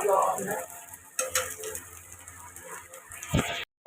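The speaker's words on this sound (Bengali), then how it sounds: "এখন এই যে ডিমটা মামলেট করছি" An egg omelette frying in a pan at home, with a faint steady sizzle, a few stirring scrapes and clinks of a utensil against the pan, a quiet voice in the background.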